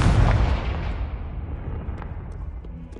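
Confringo, the explosive spell in Hogwarts Legacy, goes off as a loud, close burst that fades into a long decaying rumble, followed by a few faint clicks.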